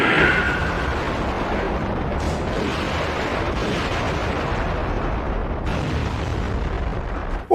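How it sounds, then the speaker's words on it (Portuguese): A big movie explosion that follows a military jet's missile attack: a loud, sustained roaring blast with rumbling debris that fills the whole stretch, with a couple of brief extra bursts partway through. "O jato militar chega para fazer o ataque de míssil para terminar o filme com uma grande explosão"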